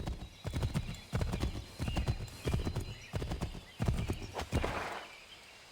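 Horse hooves clip-clop in a steady galloping rhythm in Assassin's Creed III, close and fairly loud, with a whinny rising near the end.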